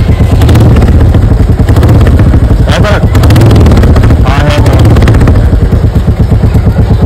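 A Royal Enfield Classic 350 fresh from its fourth service idles very loud and close with a steady rhythmic thump, while someone talks over it and briefly imitates the beat with his voice.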